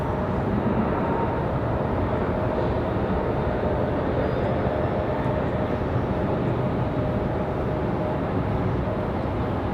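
A Spirit Airlines jet arriving from Cancun at Raleigh-Durham airport, a steady, loud broadband roar of engine and airflow that holds throughout without a break and with no talk over it.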